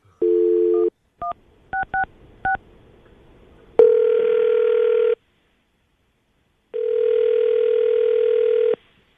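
A telephone's touch-tone keypad beeps in a short burst of dialing tones, followed by two long, steady ringback tones separated by silence.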